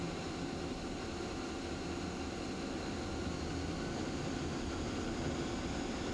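A Haas SL-40 CNC lathe with 40-inch swing and 44-inch centers runs its spindle at 600 RPM, giving a steady, dense mechanical hum and whir that stays even and unbroken throughout.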